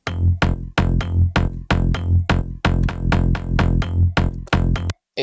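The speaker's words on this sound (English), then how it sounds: "This is how the bass line sounds." A layered slap house bass line made with the Nexus 3 synth plays short punchy plucked notes in a bouncing rhythm, loud and upfront, with no voices, stopping abruptly near the end.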